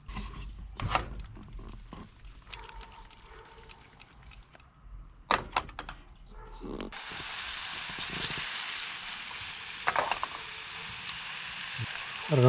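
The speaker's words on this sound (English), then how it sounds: "I don't know if you can hear that sizzle, but these mushrooms are coming along nicely" Mushrooms frying on a hot firebox stove give a soft, steady sizzle and hiss, faint at first and then louder and continuous, with scattered clicks and handling knocks nearby.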